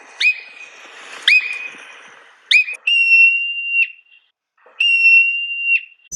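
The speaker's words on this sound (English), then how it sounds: "That is the sound of a whistler" A whistler marmot in the Canadian Rockies gives a series of high, piercing whistles, short chirps then longer sustained notes, repeated about five times with brief pauses, fairly loud and clear with no voices.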